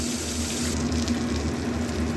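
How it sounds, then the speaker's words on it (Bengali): Pomfret fish rubbed with salt and turmeric frying two at a time in hot oil, a loud, continuous close-up sizzle. "নুন হলুদ মাখানো মাছগুলো এক এক করে ভেজে নেব, দুটো দুটো করেই ভাজবো।"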